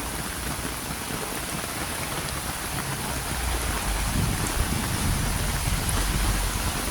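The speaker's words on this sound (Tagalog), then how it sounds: "Ayan, bigla-biglang lumalakas. At, ayan o, grabe yung ulan." Heavy rain pours down steadily during a rainy day in Hong Kong, a constant dense hiss that swells louder partway through, with no voices.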